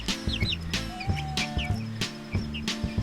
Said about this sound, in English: So these are my two chicks